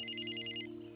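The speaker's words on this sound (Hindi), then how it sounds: "फोन बज रहा है" Phone ringing, a bright electronic ringtone pulsing in about six quick bursts that then stops, over a faint low background hum, close and moderately loud.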